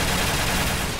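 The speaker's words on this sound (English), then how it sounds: "I'm gonna shoot all hyper zombies." Rapid video game gunfire mowing down zombies in a Custom Zombies map, a dense unbroken burst of loud shots filling the whole moment.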